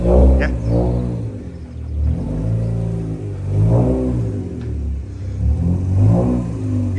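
A Mazda RX8 with a 13B rotary engine is driven out, its engine rumbling and rising in several revving surges at close range, with no one speaking.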